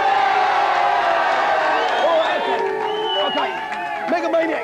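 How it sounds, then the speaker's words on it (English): A studio audience on the GamesMaster television show cheers and whoops for two competing teams, a loud sustained crowd roar with shouts and some clapping rising over it. "So, Humber Hawks, Mega Maniacs, give them a big cheer."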